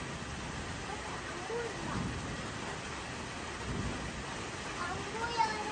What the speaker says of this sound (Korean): 소리가 들리잖아, 빗소리가.